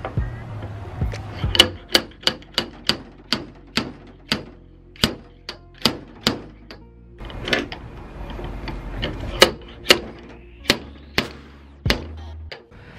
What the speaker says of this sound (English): pulling the slide hammer backward